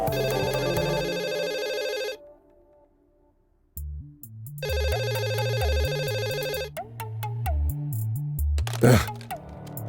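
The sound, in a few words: telephone ringing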